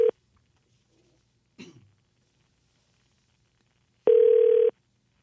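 Telephone call being placed: a short tone blip, a quiet throat-clear, then a single steady ring tone about half a second long, all in a quiet room.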